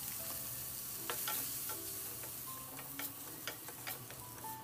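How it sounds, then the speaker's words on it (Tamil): Small tomatoes sauté in hot oil for a Tamil-style chicken kurma, with grated coconut to follow. The pan gives a steady close sizzle broken by light ticks and stirring scrapes, and no one speaks. "சின்ன தக்காளியாக எடுத்து போட்டாச்சு. நல்லா வதக்குங்க."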